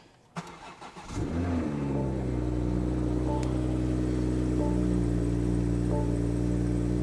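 A 2023 BMW M240i engine, rebuilt after a wreck, cranks briefly with a few quick turns, then catches and settles into a steady, close idle with a low rumble.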